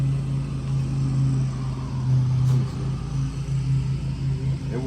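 A twin turbo GTO engine idling rough and misfiring as if not running on all cylinders, a steady low uneven rumble heard close and continuously with no talk.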